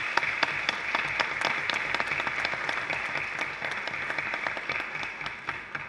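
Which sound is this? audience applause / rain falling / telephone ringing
audience applause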